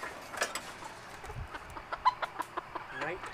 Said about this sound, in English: nighttime chicken catching.